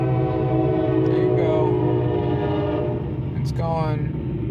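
A passing train blares its horn in long sustained tones over a heavy rumble of wheels on rails, close and loud, with a second horn blast near the end of the clip.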